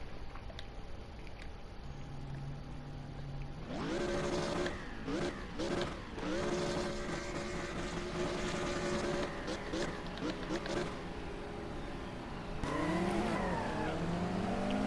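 Race cars launching from the start in a racing game, engines revving up and rising in pitch with tires squealing and spinning, loud and layered, while a commentator talks throughout.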